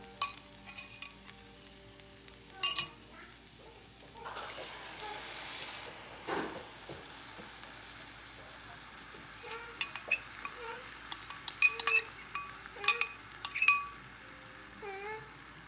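Sauce goes into sizzling ground beef in a pan, with a soft sizzle followed by spoon clinks and scraping stirs against the pan, close by and intermittent.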